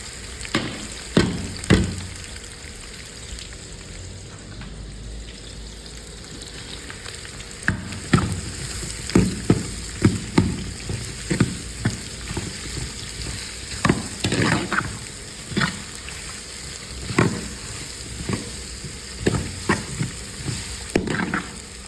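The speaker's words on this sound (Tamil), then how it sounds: "அடுத்தது வெங்காயம் போடுறோம்." About a kilogram of big onions frying in a pan for a bulk batch, a continuous sizzle broken by frequent sharp scraping and clanking stirs, close and fairly loud, no talking.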